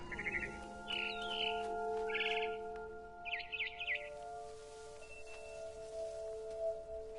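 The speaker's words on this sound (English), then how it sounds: "Then I heard chirping outside my window. It was a barn swallow going back to her nest." Barn swallow chirping in short repeated bursts near a window in a video game, clear over a steady electronic hum and soft background tones, no talk.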